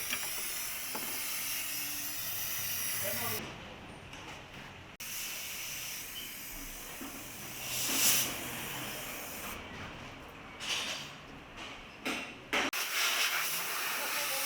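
A steady pressurized leak-detection spray hisses for several seconds on a rebuilt Fiat Doblo engine, broken by short pauses and bursts of compressed air, with faint background noise throughout.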